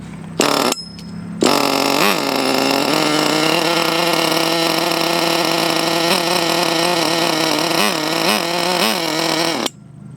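A 1/8 scale Ofna nitro RC monster truck engine starts after two brief bursts, then runs loud and steady for several seconds with small throttle blips, close by and without talk, before cutting off.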